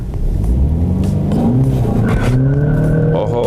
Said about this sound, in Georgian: სპორტ რეჟიმი გადავრთეთ, არის მოცურების საწინააღმდეგო სისტემა, რომელიც გამოვრთეთ და ნახოთ ადგილიდან სტარტი.